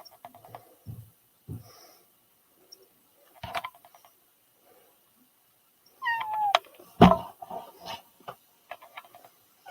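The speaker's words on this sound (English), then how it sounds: "here comes the kitty cat" Domestic cat giving a few short, moderately close meows scattered among quiet household sounds, with a louder cluster of cries near the end.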